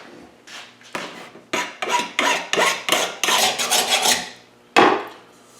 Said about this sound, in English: I need to get those burrs off first.